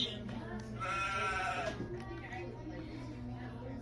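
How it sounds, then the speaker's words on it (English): A sheep on a farm bleats in one drawn-out, wavering call at close range, preceded and followed by a person speaking. "Sheep."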